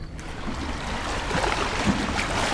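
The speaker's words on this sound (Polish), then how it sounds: "O, fale się zrobiły." Waves stirred up on a lake by a large passing ship wash and lap steadily close by, a continuous soft splashing and rushing of water with no voices.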